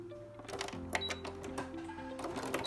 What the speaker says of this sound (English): Now, I'm going to continue on and close up that French seam.